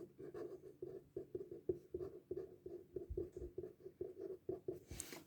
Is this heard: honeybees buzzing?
no